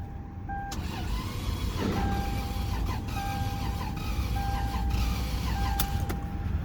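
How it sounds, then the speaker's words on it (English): A 2002 Lexus GS300 with a rough-running engine cranks over a couple of times and then catches, a steady mid-pitched engine rumble filling the car cabin, with short tonal dash chimes sounding on and off throughout. "took it a couple of cranks, but it ran"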